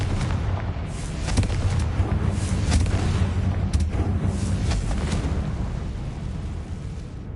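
A Confringo blasting-spell explosion in the Hogwarts Legacy game on PS5: a loud, sustained booming roar with crackling bursts that fills the whole stretch before easing slightly at the end.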